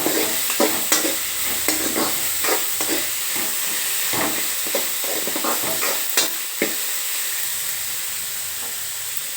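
Fenugreek leaves sautéing in a pan for methi rice give a steady loud sizzle and hiss, with repeated soft scrapes and knocks of a spatula stirring, close up, with no talking.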